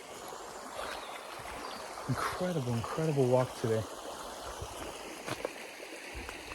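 A waterfall and stream run beside abandoned stone houses on a countryside walk, giving a steady soft rush of flowing water under a voice, with a few rustling footsteps.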